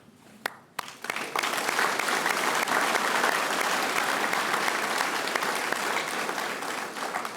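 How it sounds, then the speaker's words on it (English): A crowd applauding graduating troops at a military leadership course graduation ceremony, a few loose claps swelling within a second into a full, sustained round of applause that holds steady to the end. "join me once again in a round of applause to congratulate these incredibly proud"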